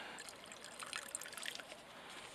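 Gasoline drains from a container in a thin, steady trickle, a faint close dribbling stream with small splashy flickers and no talk.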